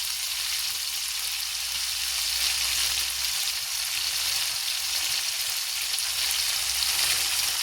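A paste of ground chili, garlic and cumin fries in a pan with a constant, even hiss, close and fairly loud, with no other sounds.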